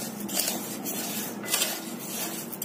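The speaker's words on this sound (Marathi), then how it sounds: "त्यामध्ये हे तांदूळ घालायचंय आणि सलग हलवून हे तांदूळ आपण भाजून घ्यायचंय" Raw rice dry-roasting in a pan over low heat for chakli flour, stirred without stopping, makes a soft, continuous grainy scraping and rustling up close.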